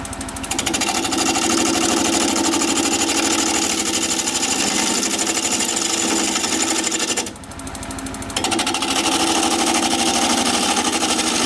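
An apple burl turning on a wood lathe at 760 rpm gives a steady, loud mechanical hum and rattle that runs almost throughout, dipping briefly near the middle before resuming.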